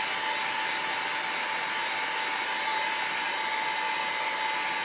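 A hair dryer blows over wet watercolor paint on paper, producing a loud, constant whooshing drone with a steady motor whine that holds unchanged from start to finish, with no talking.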